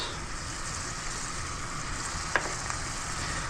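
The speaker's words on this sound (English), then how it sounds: "We just want to kind of give them a little bit of color and cook them down, sweat them down." Onions sweat in a pan with a soft, even, continuous sizzle close by and one faint click near the end. No one speaks.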